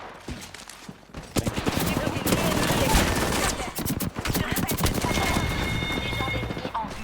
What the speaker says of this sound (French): Oh, on me tire dessus